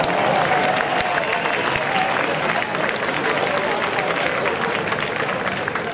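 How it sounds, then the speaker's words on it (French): A crowd at an outdoor anti-Macron rally in Paris applauds in a steady, dense wash of clapping that holds for the whole stretch, with faint cheering mixed in. "On peut les applaudir."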